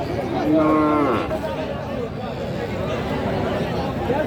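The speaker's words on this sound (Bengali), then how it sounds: "বিশাল লম্বা গরু বিরাট লম্বা" Cattle, including Friesian and crossbred bull calves, low with one loud, close moo at a busy cattle market in Raniganj, over a steady babble of crowd chatter and people talking nearby.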